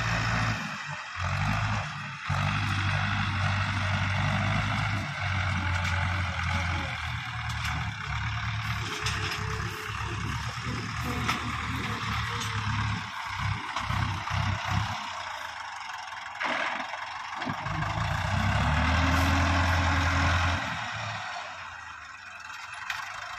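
A tractor drives along a hay meadow in fourth gear, its engine droning loud and close with rough rattling, easing off briefly midway and then surging again near the end.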